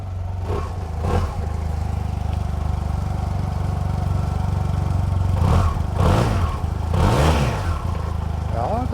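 A Sym Maxsym TL 508 scooter engine runs nearby at a steady idle with a few short revs, while people talk over it.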